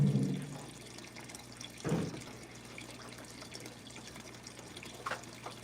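Water runs from a garden hydroponic reservoir, a steady soft rushing flow with a louder splash at the start and brief surges near two and five seconds, alone without talk.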